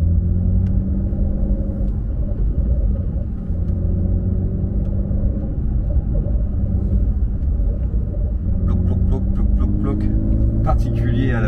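A stage 2 tuned Porsche 992 Carrera S with a 3-litre flat-six turbo drones as a steady, muffled low rumble heard from inside the cabin, with brief lighter rattles and a rising rasp near the end.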